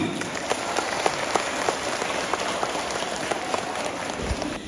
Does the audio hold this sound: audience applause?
yes